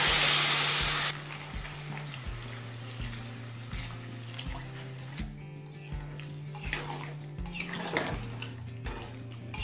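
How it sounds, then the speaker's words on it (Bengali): Hot water poured into spiced vegetables cooking in a pan for a savory vapa puli pitha filling, a brief splashing pour at the start followed by steady low simmering and faint stirring. "এবার কিছুটা পরিমাণ গরম জল দিয়ে দিচ্ছি।"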